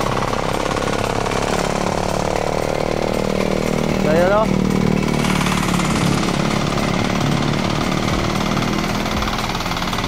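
A motorized plough tilling a farm field in Calatrava, Negros Occidental, makes a continuous loud, rattling engine drone throughout, close by, with a person speaking briefly over it.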